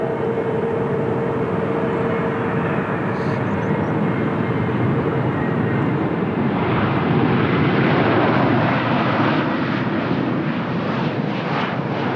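Qatar Airways airliner at the threshold of runway 20 at Lisbon Airport, a steady loud jet engine roar that holds throughout with broadband rumble and swells slightly toward the end.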